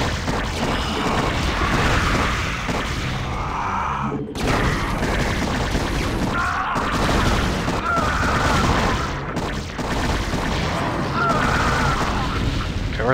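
Tank cannon blasts from StarCraft: Brood War, a dense, continuous barrage of booming explosions layered over game sounds, loud and sustained with brief dips in between.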